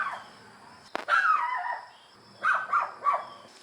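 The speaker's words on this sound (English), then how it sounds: "My mom's dog started barking at them" A pet dog barks and whimpers at people walking past near a boat, one sharp bark followed by a few yipping, whiny calls, moderately distant and fairly faint.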